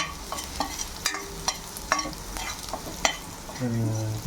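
Garlic stirred and fried in a pan while cooking Japan-style chicken, with steady sizzling and repeated scraping taps of a spatula, ending in a brief tonal clatter, close and moderately loud.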